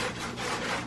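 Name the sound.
scrubbing a pineapple's skin with soap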